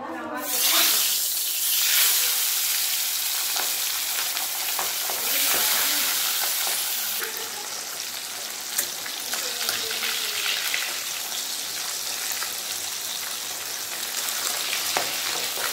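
Pabda fish frying in hot oil in a wok makes a loud burst of spattering at first, then settles into a sustained crackling sizzle with scattered pops and occasional stirring.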